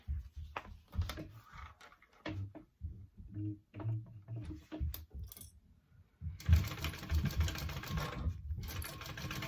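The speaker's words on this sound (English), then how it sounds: "All right, so now you sew along this part." A sewing machine stitches along a hip bag, a fast even whirring run that starts after several seconds of soft handling sounds and continues steadily to the end.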